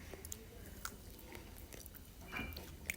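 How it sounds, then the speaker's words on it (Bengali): Someone chewing meat from a plate of biryani up close, soft wet mastication and occasional crunchy bites over a low background hum, quiet and continuous with no speech. "আমি মাংস খাচ্ছি, বেছে বেছে যা পাচ্ছি, যা সামনে আসছে তাই নিচ্ছি"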